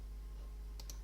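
Two quick, crisp mouse clicks land close together near the end of a short stretch of quiet computer hum, clicking Synchronize in ArgoCD.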